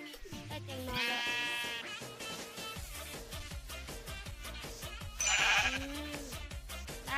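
Sheep in the video game Minecraft bleat in two loud, wavering calls a few seconds apart, heard over constant game music with soft plucked notes and no talk.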